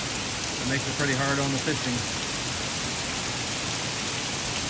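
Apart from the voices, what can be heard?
torrential downpour of rain at the lake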